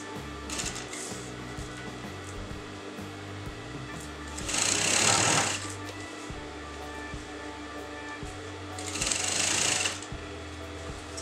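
A sewing machine stitches a straight seam along a blouse neckline, a steady close mechanical whir running throughout, with two louder, brighter bursts of fast stitching standing out from the continuous hum.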